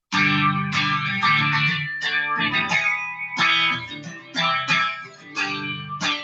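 A distorted electric guitar strums a I-V-vi-IV pop progression, each chord ringing out in turn with a chorus-like shimmer, loud and alone.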